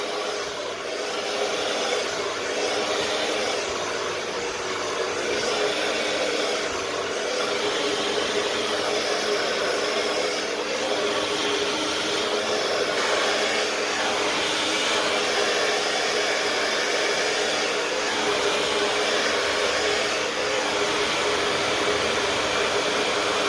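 A hair dryer blows steadily and loudly for the whole stretch, its airflow rushing at a constant level with slight wavering as it moves.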